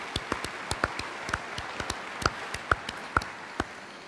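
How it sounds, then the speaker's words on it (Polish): At a Teraz Polska awards gala, an audience gives quiet, sparse applause: scattered individual claps at an uneven rhythm, heard from a distance with no talking over them. "Zatem wielkie brawa."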